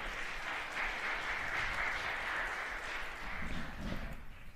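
An audience applauds at a women's junior 9-ball pool championship final, a sustained wash of many hands clapping that swells, holds steady, then thins toward the end.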